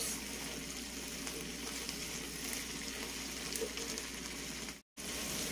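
Chicken fajita strips and bell peppers of two colours sizzle and fry steadily in a hot pan, a continuous close crackle with a brief dropout near the end.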